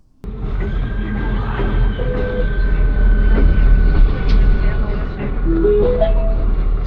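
Train riding through Huncovce, Slovakia, en route to Poprad: a steady, loud rumble of the moving carriage with brief tonal squeals and rising whines near the end, continuous from start to finish.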